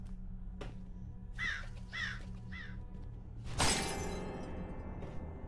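Crow cawing in the horror video game The Inn - Sanity: three harsh caws in quick succession over a low ambient hum, followed by a loud sudden shattering crash.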